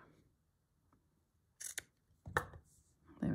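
Scissors snipping through fabric or tape in a quiet sewing setting, a few crisp close cuts in two short bursts with a soft rustle at the end.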